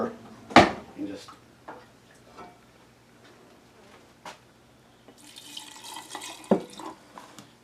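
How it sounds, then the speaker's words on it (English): Brine pours into a pickle jar, a brief splashing rush near the end that follows scattered clinks and drips in a quiet kitchen. "Now we add the brine."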